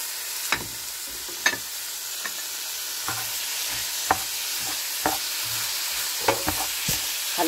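Vegetable filling for Greek gemista sautéing in a pan, a steady close sizzle broken by sharp clinks and scrapes of a utensil stirring at irregular intervals, with no voices.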